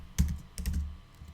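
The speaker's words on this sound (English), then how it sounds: "Having a problem typing today." Two short bursts of keystrokes on a computer keyboard, close and fairly distinct, separated by a brief pause, with no talking.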